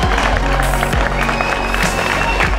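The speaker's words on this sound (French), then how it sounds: "À la troisième place, je vais appeler l'équipe 92. Applaudissez-les fort." A crowd applauds team 92 at an award ceremony, producing dense, loud clapping with cheering mixed in, continuous across the short stretch.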